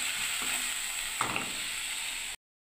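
Tomato, onion and ginger paste with turmeric and salt is stirred in a hot pan, giving a steady close sizzle with light scraping for about two seconds before stopping abruptly.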